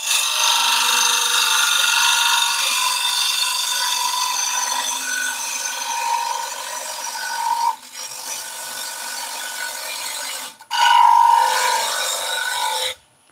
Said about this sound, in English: Let me stop the lathe